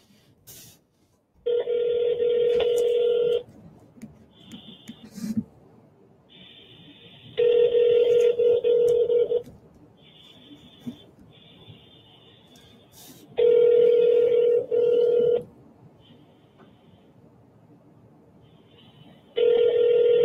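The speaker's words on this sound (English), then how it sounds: "let's dial him in and put him on the phone" A phone call ringing out on the line, with four evenly spaced ring bursts of about two seconds each separated by quiet pauses, clear and close.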